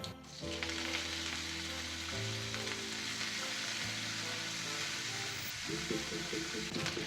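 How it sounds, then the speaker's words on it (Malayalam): Urad dal, dried red chillies and curry leaves frying in oil for a Kerala-style koottu curry, a constant bright crackling hiss running under background music. "എന്നിട്ട് അതൊന്ന് ഫ്രൈ ആയി വരുന്ന സമയത്ത് 2 വറ്റൽമുളക് ഇട്ട് കൊടുക്കാം. 2 തണ്ട് കറിവേപ്പില ഇട്ട് കൊടുക്കാം."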